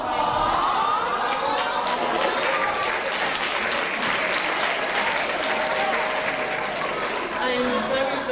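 Audience applause at a high school graduation ceremony, a steady dense wash of clapping from a large crowd with some chatter mixed in, sustained throughout.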